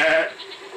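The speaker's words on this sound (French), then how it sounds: "Ah bah, il y a des chèvres, au moins." A goat in Far Cry 2 gives a short nasal bleat, quick and moderately loud, trailing off into quiet game ambience.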